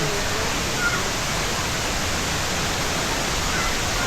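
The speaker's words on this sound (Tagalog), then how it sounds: "Ito, ang batis." A small stream flows in a natural outdoor spot, its steady broadband rush of water continuous and close, with no other sounds breaking through.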